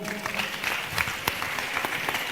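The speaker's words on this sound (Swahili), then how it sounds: "Mpigie makofi." Audience clapping at a youth lecture, steady dense applause with scattered sharper claps, moderately loud and filling the whole moment without voices.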